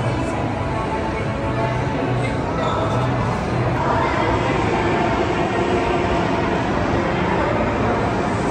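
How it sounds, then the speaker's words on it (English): A small ride-on train circles inside a busy shopping mall, its steady rumble and rolling clatter blending with constant crowd chatter and indoor echo throughout. "There's a train. It keeps going around like every like 5 minutes or so."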